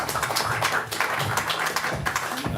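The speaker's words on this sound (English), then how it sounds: "Give a warm applause." An audience gives warm applause to a speaker called up to a podium, a brisk patter of clapping hands at moderate loudness with no speech over it.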